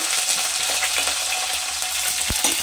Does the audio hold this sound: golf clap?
no